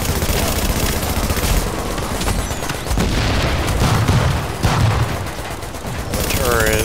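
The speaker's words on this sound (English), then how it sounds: "The turrets. Grenades exploding." Dense turret gunfire and repeated grenade explosions in the shooter game Resistance, a loud continuous barrage of rapid shots and booming blasts with brief lulls, with a voice faintly under the din.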